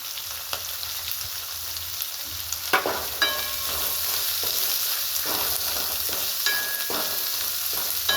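Sliced onion with curry leaves and split green chilies sizzling steadily in hot oil in a pan for a hyacinth bean curry, with occasional scrapes and stirs, close and continuous, no talking.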